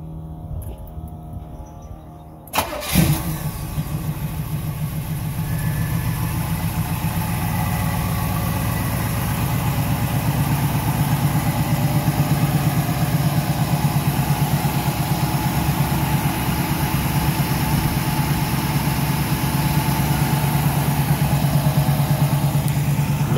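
A 350 engine in a G Body car cranks and fires with a sharp start, then settles into a loud, steady, rumbling idle that continues close up for about twenty seconds.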